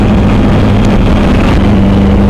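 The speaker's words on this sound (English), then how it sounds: "Oh, this engine sounds fantastic." A Suzuki V-Strom 1000XT motorcycle engine runs loud and steady during a test ride, a thick continuous rumble with a low throbbing drone that barely changes, no voices over it.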